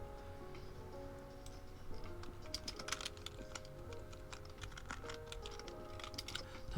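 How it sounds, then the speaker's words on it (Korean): Steady clicking of typing on a computer keyboard, rapid irregular keystrokes throughout at close range, with some brief bursts of faster typing and no talk. "제가 키보드 소리가 좀 크네요."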